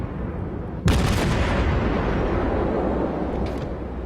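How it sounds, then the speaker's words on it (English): A naval gun salvo from the cruiser USS Omaha in a video game lands as one sudden booming blast, followed by a long rolling rumble that fades slowly. "So we adjust and fire another salvo."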